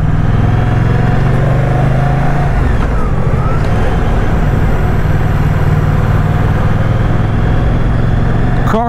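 A 2024 Moto Guzzi Stelvio motorcycle engine runs loud and close, its steady drone rising as the bike pulls away, with wind rumble over the microphone.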